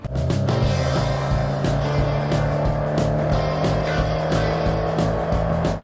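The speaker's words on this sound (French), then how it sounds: "en ajoutant une couche de musique et des sons de moteur, ce clip prend vie" Loud engine revving drones steadily over layered music, with a sustained motor hum and rhythmic percussive hits, ending abruptly.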